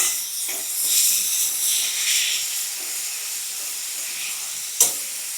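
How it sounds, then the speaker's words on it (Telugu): A loud, steady hiss of prawns frying in hot oil, close by, with a short sharp clatter near the end. "రొయ్యలు మంచిగా ఫ్రై అవుతుంటాయి నూనెలో"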